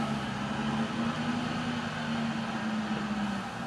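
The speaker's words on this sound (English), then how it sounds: "You can hear that clutch." Clutch of a low-mileage, previously flooded Mustang Cobra engaging while the car drives, a steady low drivetrain drone with a faint whine holding level throughout, close and continuous with no talk.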